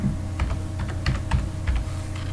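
Computer keyboard keys tapped in quick irregular bursts while Python NumPy code is typed, close and clear over a low steady hum, with no voices.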